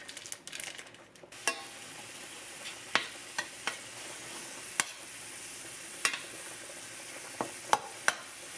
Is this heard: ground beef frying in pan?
yes